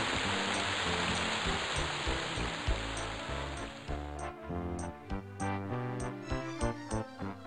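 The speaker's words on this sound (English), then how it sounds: "It's raining here." Steady rain hisses in Rivervale in the EverQuest game, a dense wash that thins after a few seconds as cheerful polka music with tubas takes over.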